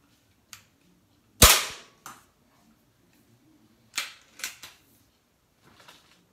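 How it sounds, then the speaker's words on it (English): Five shots from a Diana 240 classic .177 air rifle with a rebuilt replacement trigger module, firing H&N Finale Match 18.1 grain pellets: one loud sharp crack followed by four quieter snapping shots at irregular intervals, close by. "Five shots."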